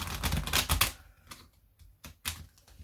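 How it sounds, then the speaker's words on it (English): A tarot card deck is shuffled quickly by hand: a dense burst of rapid papery riffling and clicks, then a few short, separate card taps and slaps, all close and fairly quiet. "I kind of want to shuffle it like this really quickly."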